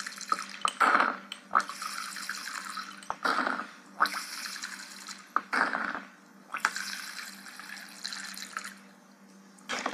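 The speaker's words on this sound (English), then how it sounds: "1 cup water I am adding to this." Distilled water poured from a cup into a homemade alcohol-based hand sanitizer mixture of isopropyl alcohol; close, intermittent splashing and trickling in several short bursts, fairly quiet with no talking.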